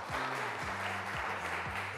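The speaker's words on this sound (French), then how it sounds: "On applaudit pour elle, s'il vous plaît." A game-show studio audience claps for a contestant, a short dense burst of applause over a repeating musical jingle.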